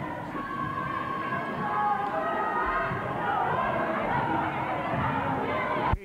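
Spectators at a 1994 Minneapolis high school boys basketball game, South at Southwest, voice loud, continuous crowd chatter and murmuring that fills the gym, steady and dense throughout before cutting off sharply near the end.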